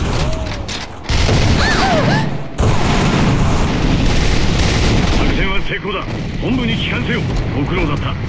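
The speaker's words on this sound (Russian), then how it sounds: "Бросаю гранату!" A grenade explosion and rattling gunfire in the shooter game AVA, with loud booms and continuous shots over a busy battlefield and game voice callouts.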